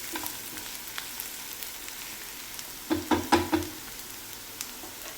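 Chopped onions sautéing in a pan for paneer bhurji, a soft steady sizzle broken by a few clattering stirs of a spoon against the pan, close and without talking.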